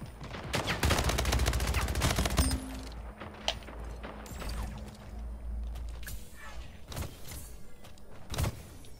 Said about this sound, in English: That's someone trying to shoot me in the back.